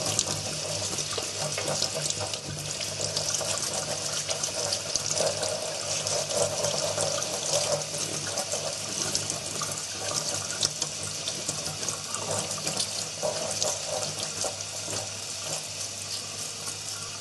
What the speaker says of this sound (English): I'm going to take this out, run it under cold water